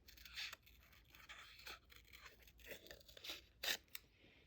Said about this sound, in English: go ahead and grab your snips, and we're going to fussy cut out the greeting